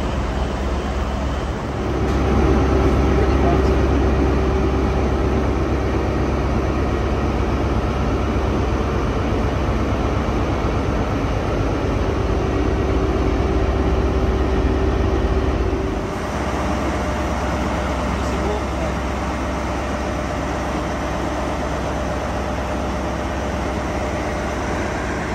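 A GWR HST diesel train, led by power car 43154, rumbles steadily throughout between Plymouth and Penzance, a continuous loud engine drone with rail noise heard from on board, easing slightly partway through.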